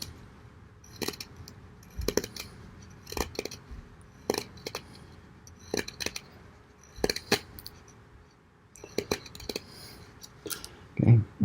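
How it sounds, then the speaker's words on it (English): A CJRB Maileah folding knife blade shaves and trims a piece of wood in a series of short, crisp scraping strokes at close range, repeated at an irregular rhythm with brief pauses between cuts and no talking. "Wrong shaped blade for most whittling, but it feathers it up nicely."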